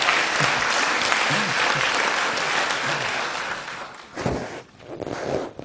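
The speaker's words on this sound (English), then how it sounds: "We give her a big applause." An audience at a 2012 Paris conference presentation applauds in a dense, sustained burst of clapping that fades after about four seconds, leaving scattered rustling and a faint voice.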